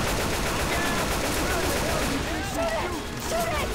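Rapid automatic gunfire from several players shooting down the Tank in the zombie game Left 4 Dead 2 in versus mode, a dense continuous barrage that fills the whole stretch with overlapping shots and faint tonal game sounds.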